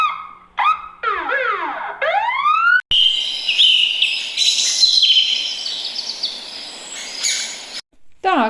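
Rapid sweeping siren-like whoops give way to a dense, bright chorus of birds chirping and twittering, fairly loud and continuous.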